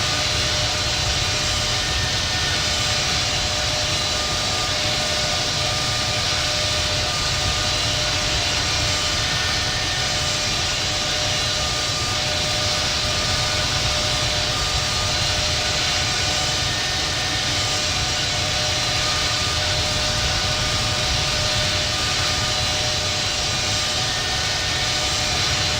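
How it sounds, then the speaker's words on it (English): An American Airlines Boeing 777-200 takes off from Los Angeles in the Infinite Flight simulator game, a loud, unbroken jet engine roar with a steady whine that holds throughout, alone without voices. "November 69 Oscar Whiskey is taking off runway 25 right,"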